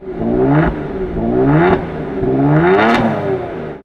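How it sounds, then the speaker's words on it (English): A Kia Stinger V6 engine revs hard three times in quick succession through an aftermarket exhaust, rising and falling in pitch with a raspy, throaty tone. "So what does a baller exhaust sound like on a Stinger?"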